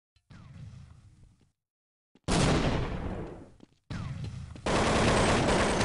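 Bursts of rapid gunfire in a Counter-Strike match on de_tuscan, loud sustained volleys separated by brief silences, with a distant burst at the start.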